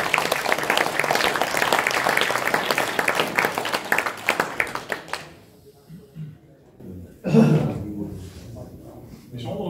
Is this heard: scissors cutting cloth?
no